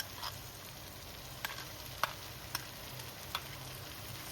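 Chicken mince frying with onion, ginger, garlic and tomato in a pan: a faint, steady low sizzle broken by a few sharp utensil clicks from stirring.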